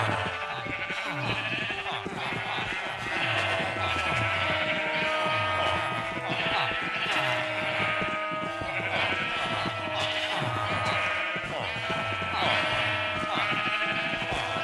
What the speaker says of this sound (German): Jetzt muss ich die ganzen Schafe hier erstmal rüberlocken